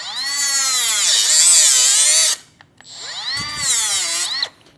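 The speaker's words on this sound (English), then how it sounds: "To do that, we're gonna use a cutoff wheel." A cutoff wheel slices through a hose on a turbo kit install for a 2007 Subaru STI, giving two loud, high whining cuts about two seconds each, with a short pause between them as the wheel spins down and restarts.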